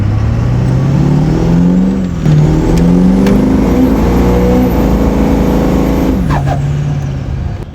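Pickup truck with an S300 turbo in tow/haul mode accelerating hard, its loud engine rising in pitch through several gear shifts with a brief dip between them, turbo whistle on top, close and unaccompanied by talk.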